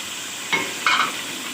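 Tomatoes stirred in a pan as they fry with ginger-garlic paste for aloo matar pulao, giving two short scraping stirs over a steady soft sizzle.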